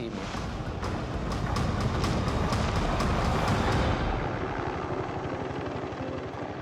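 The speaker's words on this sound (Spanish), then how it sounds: "El helicóptero lo está buscando." A helicopter roars loudly overhead, its rotor beating in a rapid steady thump under a broad whooshing rumble that continues throughout.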